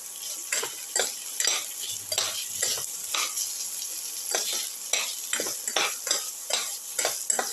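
Curry leaves sauté in a pan, giving a soft sizzle under a rhythmic run of spatula scrapes and stirring strokes, close and even throughout.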